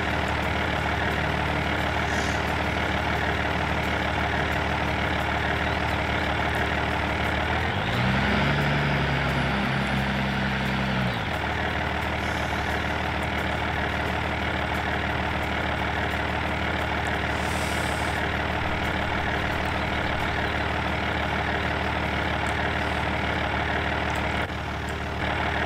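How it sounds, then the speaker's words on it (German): Tractor engine idling in a farming video game, a steady low rumbling drone that holds throughout, with a brief rougher surge partway through. "Traktor so laut, ne?"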